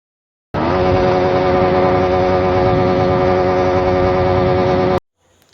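A Yamaha MT-15 motorcycle engine held at high RPM, a loud, steady, strongly tonal roar that starts abruptly, sustains evenly for about four and a half seconds, then cuts off sharply into near silence.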